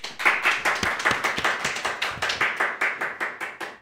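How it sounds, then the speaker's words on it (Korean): A group of people applauding at a church congregation worship service, steady rhythmic clapping that continues for several seconds, fairly close and lively. "우리 환영의 박수 한번."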